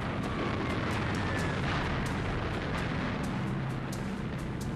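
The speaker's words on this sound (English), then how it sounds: "US bombers flying low over Tokyo dropped bombs on the city close to the Emperor's palace." Explosions from bombs falling during a US bombing raid on Tokyo, a loud continuous rumble with dense booming, like a wartime newsreel.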